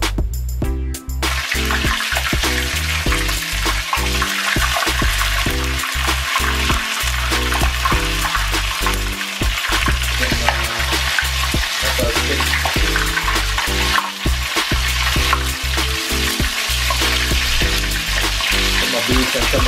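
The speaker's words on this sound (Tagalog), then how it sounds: "pwede natin i-fry ang ating soft shell crab" Soft-shell crab frying in hot oil at around 350 degrees Fahrenheit, a loud, steady, dense crackling sizzle that runs continuously throughout, close up, with some clatter and bubbling layered over it.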